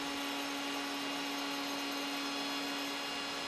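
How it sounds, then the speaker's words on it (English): A router bit spinning at 16,000 RPM plunges into wood, a steady loud whine and rushing roar holding at one level throughout with no talking. "Slowly allow the router bit to plunge into the wood until it touches the fence."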